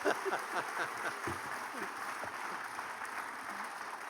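A festival audience applauds author William Kent Krueger at the Savannah Book Festival keynote, a steady wash of clapping from a seated crowd filling the hall, moderately loud and sustained throughout.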